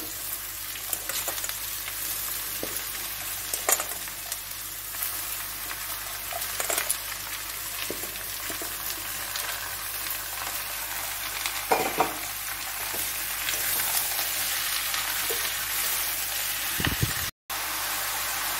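Bottle gourd pieces frying with half-fried prawns in a pan, a steady loud sizzle running throughout with occasional stirring scrapes and clinks, no one speaking.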